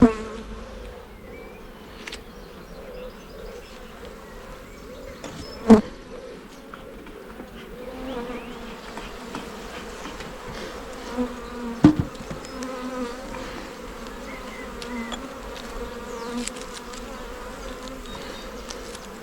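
Honeybees during an inspection of a hive whose brood box is nearly full, a soft continuous buzz close by with a few sharp knocks and clicks from handling the frames, and no talk.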